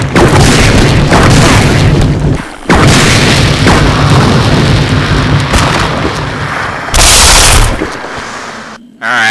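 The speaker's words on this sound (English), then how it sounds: "Alright, let's try with flame rounds." Grenade launcher firing flame rounds in Resident Evil Zero, loud booming blasts with a roaring burst near the end and dense rumble between shots.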